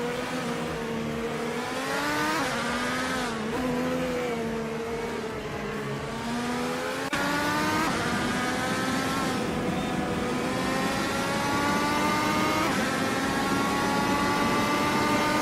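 Race cars in a racing video game at Silverstone drone past with steady high engine whines, pitches rising and falling as they accelerate and shift, several engines overlapping continuously.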